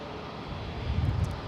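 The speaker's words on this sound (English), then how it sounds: "the 787 is on short final. This is American 9833 coming in from" A Boeing 787 airliner, American 9833 arriving from DFW, roars steadily on short final at San Jose Airport, a broad rumbling engine noise that swells slightly toward the end.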